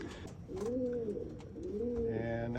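Racing pigeons coo in a loft, giving soft repeated swooping calls close by, with faint rustling in the background.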